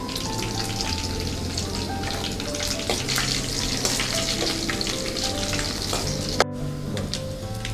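Mustard seeds, chana and urad dal, green and dried red chilies, curry leaves and cashews sizzle in hot oil for a lemon rice tempering, a steady, dense crackle throughout with a single sharp click near the end.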